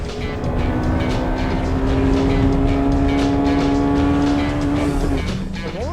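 Honda Civic Type R EK9 racing uphill against an S2000, its engine holding a loud, steady high drone close by for several seconds before the pitch drops sharply near the end.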